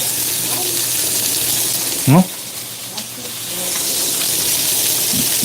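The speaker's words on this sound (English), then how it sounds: "I'm gonna sear it on one side" Leftovers searing in a hot pan, one side down, give a steady close frying sizzle and hiss throughout, with a brief louder burst near the middle.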